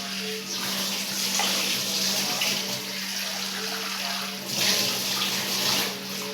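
Tap water runs steadily into a container, with splashing that swells and surges as boiled soy chunks are rinsed under the stream.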